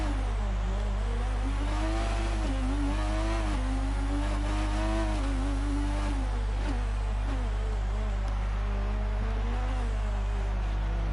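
Formula 1 car in a racing video game pulls away from a race start in Montreal, its engine revving loudly and climbing through gears in a continuous, steady whine with no talk over it.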